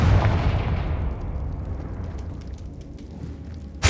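A Confringo fire spell blasts in Hogwarts Legacy, a booming burst followed by a rumbling decay that fades over several seconds, with a sharp new hit at the very end.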